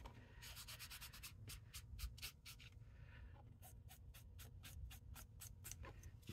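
Glued die-cut paper being rubbed down, a faint, rhythmic scratchy rubbing in quick strokes with a short pause partway through, and no talking.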